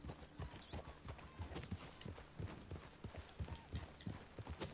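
Horse hooves clip-clop in Red Dead Redemption, a steady rhythmic gait of several close, crisp strikes per second at a fairly quiet level, with no voices over it.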